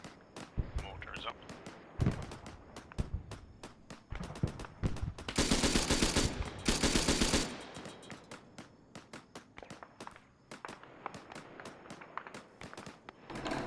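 Dense, sustained gunfire and heavy explosive reports pound through a military video game battle, including a loud, continuous roaring barrage in the middle, with faint voices now and then.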